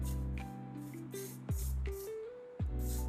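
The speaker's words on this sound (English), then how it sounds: "Now I'm taking the L'Oreal setting spray, the setting mist, and sealing the makeup." Several short hissing sprays from a L'Oreal makeup setting spray bottle, close up, in a quick irregular series with a low background hum.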